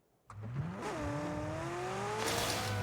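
A vehicle engine in PUBG starts up and revs, rising steadily in pitch as it accelerates, with a continuous mid-level drone and a brief tire noise.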